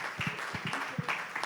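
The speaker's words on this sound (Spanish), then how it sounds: "si le damos un aplauso" Applause at a Guadalupe sanctuary gathering, scattered hand clapping from a modest audience with a few distinct low thumps near the start and middle, fairly soft and uneven.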